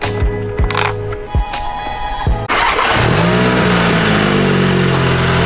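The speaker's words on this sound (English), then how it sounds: "we're just gonna run the car until it dies" A VW MK7 GTI engine cranks with several rhythmic starter pulses, then catches and settles into a steady, loud running hum close by.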